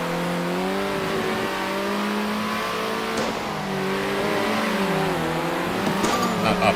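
Racing video game car engines rev and whine, their pitch climbing and dropping repeatedly over a steady roar, with brief sharp squeal-like bursts near the middle and end.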